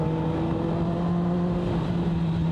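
A 1000cc superbike engine rated at 200 horsepower and 63 Nm of torque runs with a steady, close, humming drone of even pitch.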